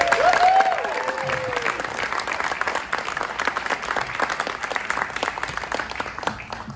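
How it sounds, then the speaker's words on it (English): An audience at a liar's storytelling contest applauds steadily, a dense patter of many hands at moderate distance, with a brief voice over the opening moments. "please, applause for Shayne Larango"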